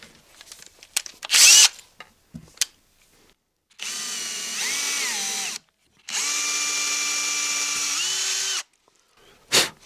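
A power drill fitted with a 1.5 millimeter bit bores holes for a DIY motorized Christmas music box: two close, loud whirring runs of a few seconds each with shifting pitch, separated by short clicks and silence, with no speech.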